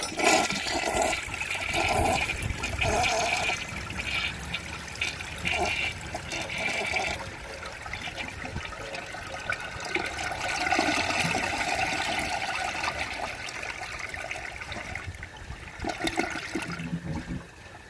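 A 1976 Kohler Wellworth toilet flushes with a loud, close rush of water, then a long swirling drain and gurgle that eases into trickling refill, with no talking.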